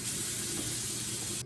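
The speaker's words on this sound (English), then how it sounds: "I'm going to rinse the pasta." Running water pours steadily in a hissing spray over cooked pasta in a colander, close and continuous, then cuts off abruptly at the end.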